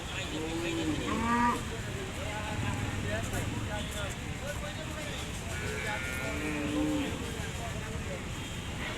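At an open cattle market, several cows give low drawn-out moos and calls that rise above a dense crowd murmur, with people talking throughout close by.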